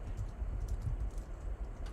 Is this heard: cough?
no